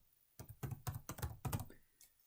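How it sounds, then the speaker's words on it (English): Several short bursts of keystrokes on a computer keyboard, closely spaced taps in quick clusters, fairly quiet and close, with no voice. "So I type"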